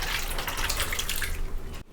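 Water from boiled lentils (dal) pours and drains in a steady close splashing stream, then cuts off abruptly near the end.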